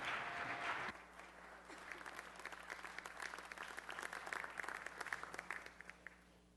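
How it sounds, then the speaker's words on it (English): Applause at a city council meeting rises from a large audience, starting with a louder burst of dense clapping, then continuing as a steady, somewhat thinner round of hand claps for about six seconds. "Let's give Mr. Price a round of applause."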